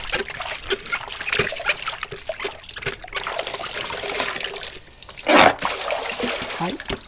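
Shoes are press-washed in a tub of water while being rinsed, giving steady sloshing and trickling with a louder splash near the end, close and moderately loud.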